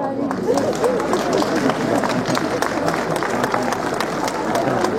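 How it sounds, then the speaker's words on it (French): A crowd at a tête de veau tasting event in Rambervillers applauds as medals are handed out, steady clapping mixed with murmuring voices and talk throughout. "qu'on leur remette la médaille, on peut les applaudir"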